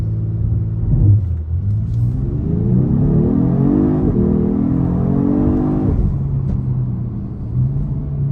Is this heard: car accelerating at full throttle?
yes